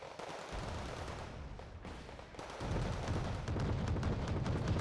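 Rapid bursts of M42 Duster anti-aircraft gunfire in the wargame Wargame: Red Dragon, a dense, continuous rumbling barrage that grows heavier and louder partway through, with no talk.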